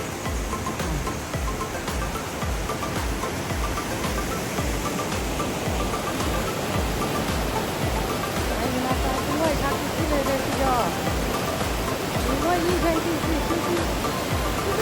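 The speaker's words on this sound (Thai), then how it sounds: "ทุกคนดูน้ำตกแม่สา" Mae Sa waterfall in Chiang Mai pours in a steady, broadband rush that fills the whole stretch, while people chat and exclaim nearby over the constant roar.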